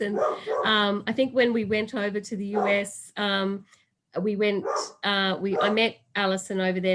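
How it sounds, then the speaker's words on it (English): A dog barks now and then in the background, mostly buried under steady indoor talking. "That was my dog barking in the background."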